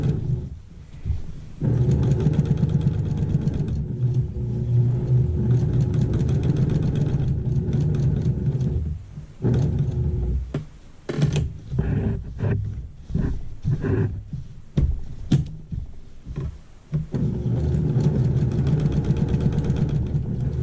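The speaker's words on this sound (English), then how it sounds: "I'm just sewing near, stitching in the ditch here" A sewing machine hums steadily while stitching in the ditch on a quilted table runner, running in long stretches and broken by a few short pauses, close and continuous, with no talk.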